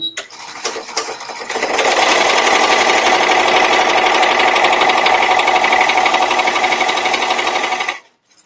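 An embroidery machine stitches a penguin design in pink thread, its needle hammering in a fast steady chatter that starts after a brief pause and runs loud and close for about six seconds before stopping.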